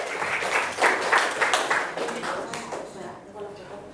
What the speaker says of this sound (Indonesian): untuk ketiga jawaban kita tepuk tangan dulu.